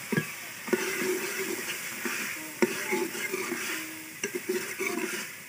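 A steady sizzle of peas frying in a spice mixture fills the background, with occasional stirring clicks and scrapes of a utensil in a pan.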